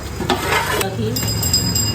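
Chops sizzle in hot oil at a snack shop in Balurghat, a steady close crackle with stirring scrapes and faint background chatter.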